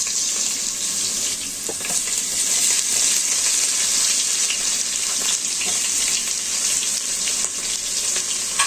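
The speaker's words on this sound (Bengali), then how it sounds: "তার মধ্যে দিয়ে দিব পেঁয়াজ।" Onions sizzle in oil with crushed garlic for a mutton biryani, a steady close-up frying hiss with faint clicks from stirring and no talk.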